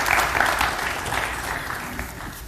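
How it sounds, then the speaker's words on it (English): A crowd at a mayoral candidates forum in Amesbury claps steadily for the city council candidates, a dense, even round of applause that fades slightly toward the end, with no voices over it. "if folks don't mind giving them a round of applause here"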